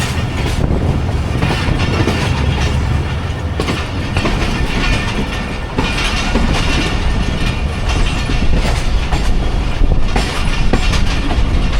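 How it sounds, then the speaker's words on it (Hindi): Jaffar Express pulling into Multan Cantonment railway station, a loud, steady rumble of rolling wheels and carriages that holds close and even for the whole stretch, with no voices over it. "मुल्तान कंटोनमेंट रेलवे स्टेशन पे 40 टाउन जाफर एक्सप्रेस अप्रोच बना रही है।"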